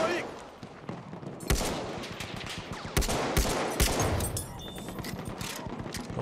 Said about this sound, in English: Want to provide him some rifle support from here.